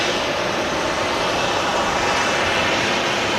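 Jet engines of a Boeing 737-800 airliner at Manchester Airport give a loud, close, unbroken roar that holds steady throughout.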